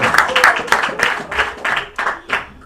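Audience applause at a comedy show at Room 41 in Burbank, a crowd clapping in several bursts at a steady, moderately loud level for a few seconds.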